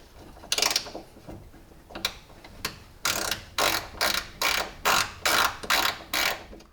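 A ratcheting tool clicks in short rhythmic bursts while screws are backed out of a window motor inside a Subaru Forester door, the repeated ratchet strokes sharp and close with brief pauses between them.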